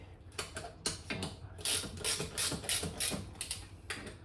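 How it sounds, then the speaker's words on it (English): A 13mm socket ratchet tightens bolts on a BERG BFR go-kart, giving repeated rapid clicking bursts in an uneven rhythm, close and fairly loud with short pauses between strokes. "And you're still on the 13mm spanner or socket set, and again, tighten these firmly."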